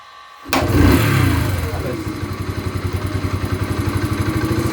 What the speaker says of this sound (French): la XTX, je peux essayer de la démarrer au kick